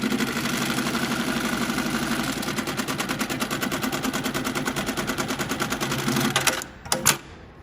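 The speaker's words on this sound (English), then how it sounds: "we're gonna do a vertical bar tack on some webbing here" A Mitsubishi programmable CNC sewing machine stitches a vertical bar tack on webbing, a loud, fast, even needle rattle running steadily for about six seconds before stopping with a few clunks of the clamp.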